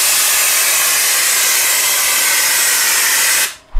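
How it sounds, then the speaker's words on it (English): A texture spray gun blasts heavy drywall texture onto a wall as a loud, steady hissing spray that runs unbroken for over three seconds, then cuts off abruptly near the end. "Now we're gonna spray some heavy down here and see how it does for a knockdown."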